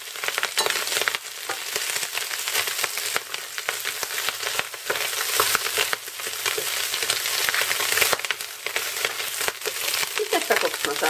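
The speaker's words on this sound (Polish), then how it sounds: "I też tak obsmażamy z pieczarkami 2 minuty." Chicken gizzards and mushrooms fry in oil for a Polish gizzard stew, giving a steady, dense sizzle with occasional stirring scrapes throughout.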